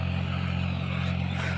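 A small tractor engine runs steadily in a farm field with a low, even mechanical drone and a constant throbbing hum, close and unbroken throughout.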